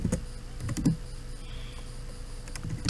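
Typing on a computer keyboard: short bursts of close, clicky keystrokes at the start and end, with quieter pauses in between.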